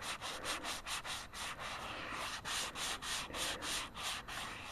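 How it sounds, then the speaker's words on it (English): Sandpaper of 100 grit scrubs around the corner of a wooden stand for a Sony 40-inch Trinitron XBR television, a steady run of rapid, close back-and-forth rasping strokes with no talking. "Got another 100 grit. Let's go right around the corner there."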